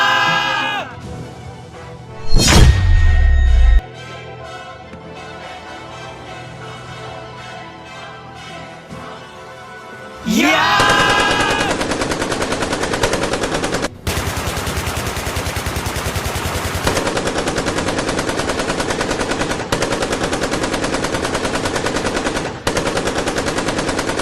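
Loud, sustained bursts of rapid automatic gunfire rattle close by, with a single sharp blast early on before the continuous firing kicks in.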